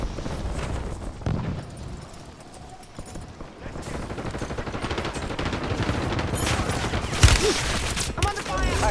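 Rapid bursts of gunfire from a Call of Duty Black Ops 7 Warzone match, a dense, continuous clatter of shots filling the whole stretch, with a sharp louder report near the end and game voices mixed in.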